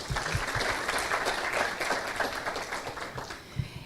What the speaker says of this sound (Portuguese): Também uma salva de palmas com muito carinho.